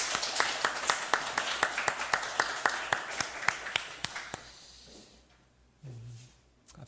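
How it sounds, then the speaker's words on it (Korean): A church congregation at a Pentecost Sunday service claps in welcome, a steady, evenly paced run of sharp claps for several seconds that then stops, leaving quiet room tone and a faint low sound. "우리 박수로 한번 환영하도록 하겠습니다."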